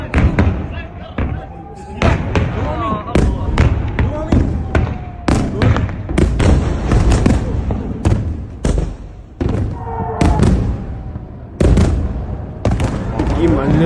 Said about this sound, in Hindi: पूरे इजराइल पर मिसाइलें दंदनाती हुई गिरी हैं।